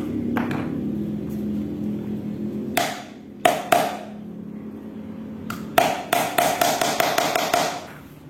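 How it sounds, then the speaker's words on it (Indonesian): A small hammer drives nails into the base of a rattan vase mould, first a few separate sharp knocks, then a rapid run of evenly spaced taps, close and loud over a low hum. "Nah, ini proses pemakuan untuk di dasar, kita usahakan paku ini mereng supaya nanti tidak menghalangi tindihan rotan berikutnya"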